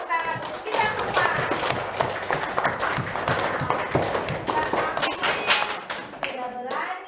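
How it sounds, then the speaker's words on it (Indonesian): Classroom clapping from children and a teacher, brisk uneven hand claps mixed with children's voices and chatter, fairly close and continuous. "Ayo beri tepuk tangan untuk kita semua"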